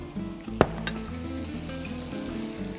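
Chicken sizzles in a hot frying pan for chicken shawarma, a steady broadband crackle with a brief sharp clink of a utensil against the pan near the start, heard close with no voices.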